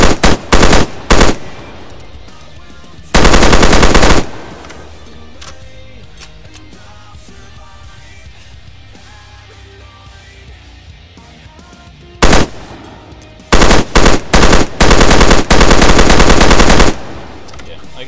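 Machine gun fire in the ARMA 3 video game comes in loud, close bursts of rapid automatic shots, several short volleys at the start and a cluster of longer bursts toward the end, with quieter gaps between.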